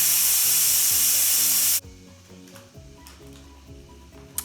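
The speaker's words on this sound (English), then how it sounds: "Let all the steam out." Steam blasts loudly and steadily from a pressure cooker's release valve after cooking eggs, then cuts off abruptly, leaving quieter clicks and faint background tones.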